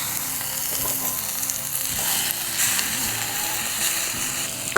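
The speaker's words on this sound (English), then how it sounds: "we've got a nice sizzle anyway" Mushrooms sizzle loudly and steadily in a very hot frying pan at a summer wild camp, a close, continuous crackle with small scrapes and no talking.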